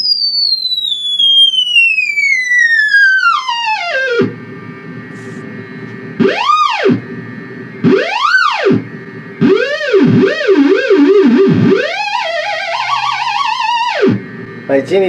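A Sonic Wave theremin wails through long sliding tones, first a steady downward sweep and then rising and falling swoops and wobbling arcs, loud and electronic with no talk over it.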